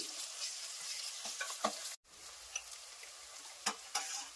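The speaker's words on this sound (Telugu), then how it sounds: "తగినంత అల్లం వెల్లుల్లి పేస్ట్ వేసుకొని పచ్చివాసన పోయే వరకు ఫ్రై చేసుకోవాలి" Ginger garlic paste fries in a pan for cauliflower biryani, a steady close sizzle broken by a few sharp stirring scrapes and a brief gap in the sound.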